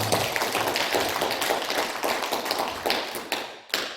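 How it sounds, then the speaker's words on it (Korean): A church congregation claps in thanks during a sermon: many hands beat in a fairly quick rhythm for about three and a half seconds, then thin out into a few final claps. "하나님 앞에 감사 박수합시다"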